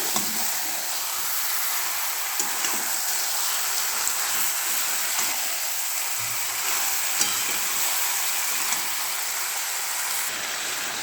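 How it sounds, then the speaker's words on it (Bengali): Chicken pieces frying with salt in a pan for biryani give off a steady, dense sizzle that crackles evenly throughout, with no voices. "নুন দিয়ে ফ্রাই হচ্ছে।"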